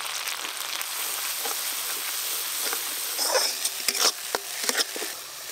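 Mustard and poppy seed paste masala frying in oil, a soft continuous sizzle with light spattering pops that grow busier toward the end, close by.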